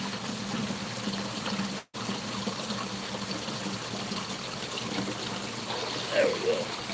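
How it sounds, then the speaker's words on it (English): Fresh water runs steadily into a container in a garden, a continuous close splashing trickle with one brief break and a faint voice near the end. "Fill this back up with fresh water anyway."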